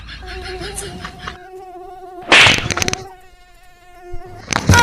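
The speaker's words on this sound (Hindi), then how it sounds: "21 साल मच्छर हमका परेशान कर दे बा" A mosquito buzzes with a loud, close, high whine that holds steady for several seconds, broken by two sharp noisy bursts like slaps or thuds.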